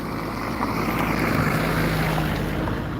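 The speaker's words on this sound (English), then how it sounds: "this truck is going to kick up a lot of dirt" Truck passing close on a dirt road, a loud continuous engine rumble with broadband road and wind noise throughout, no speech.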